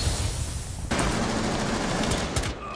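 Gunfire crackles in a Rainbow Six Siege match, a rapid rattling volley that breaks out suddenly and keeps going at close range with no talk over it.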